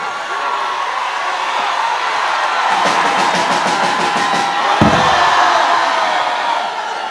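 A concert audience rises, cheering and applauding as a dense, loud crowd roar, with a stretch of rhythmic clapping in the middle and a thump partway through.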